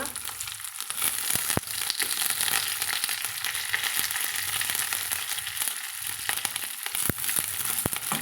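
Small onions and a few curry leaves sauté in oil in a pan, a loud, dense, continuous sizzle and crackle with occasional sharper pops and light stirring, no talk.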